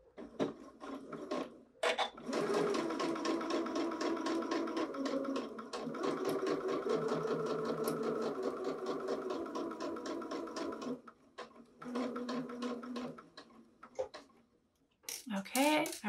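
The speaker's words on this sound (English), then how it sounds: "I'm just going to try to stitch as closely as I can to the folded edge." A sewing machine stitches fabric close to a folded edge while making a mitered corner napkin, with a fast steady mechanical whirring and ticking that pauses briefly and resumes, and a person talks over it.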